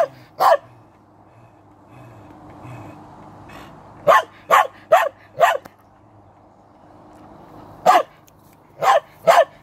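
A dog barks in short, sharp single and double yips, spread irregularly with quiet gaps between, close and fairly loud over a low room hum, with no one speaking.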